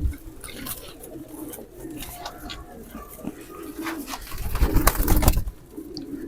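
Silver pigeons, a Hercules breed kept as flying pigeons, cooing softly and repeatedly close by, with fluttering and light patter in the background.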